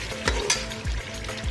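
Cumin seeds and whole black peppercorns fry in hot ghee for a white chicken pulao, giving a steady close sizzle with a few sharp stirring scrapes.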